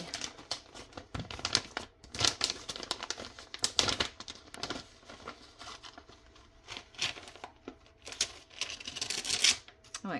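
Paper being crinkled and crumpled by hand while making a handmade journal, in bursts of close, crackly rustling with short pauses between handfuls, fairly quiet.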